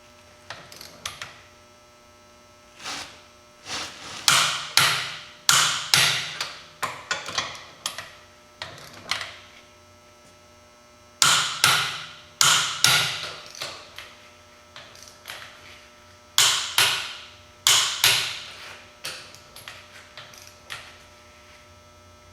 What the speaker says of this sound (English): I'll torque these wheels before I forget.